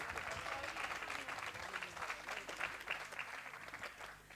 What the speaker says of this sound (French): Et Landry, on l'applaudit aussi.